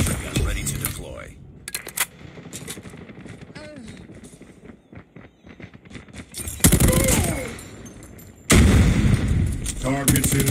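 LMG Bruen MK9 fire in Call of Duty Mobile Season 10: loud, dense bursts of rapid gunfire in two long stretches, with quieter shots, clatter and game voice lines before them.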